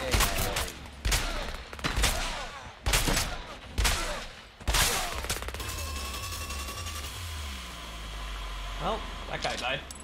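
Gunfire in the video game Scavengers, several loud bursts of rapid shots in the first half, then quieter distant shots and game sounds while a person talks over it.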